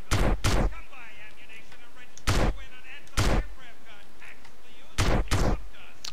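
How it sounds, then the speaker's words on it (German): A sawed-off shotgun fires in the MTA video game, five loud sharp blasts spaced irregularly, some in quick pairs, over a quiet background. "Irgendeine abgesägte Schrotflinte. Richtig geil, also die, mit der Waffe haut man fett rein."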